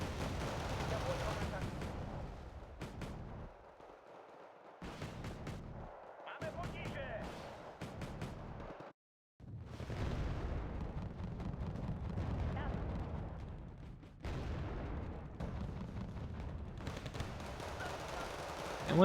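Gunfire and artillery in the mech strategy game Red Dragon, with repeated booming bursts and rumbling explosions separated by short silences, and a voice talking over parts of it.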